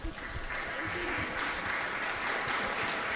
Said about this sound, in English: Applauses to these beautiful girls and our guests.